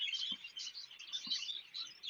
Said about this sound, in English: Obviously, there's a lot of bird noise here.